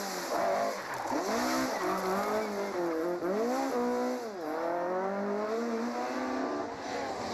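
Ford Escort rally car spinning at a road junction during a rally, with squealing tyres and rising and falling engine revs close by, continuous and loud throughout.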